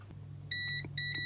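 Continuity tester beeping while probing the pins of an Epson printer driver chip, two short, sharp electronic beeps close together over a low electrical hum.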